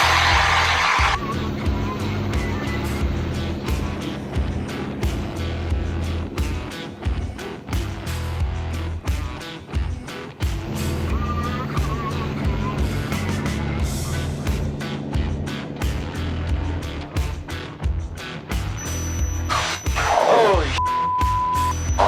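A Zenith CH750 light aircraft in flight, heard from inside with a steady, loud engine drone and airframe rumble, broken by repeated knocks and handling noises and a brief whine near the end.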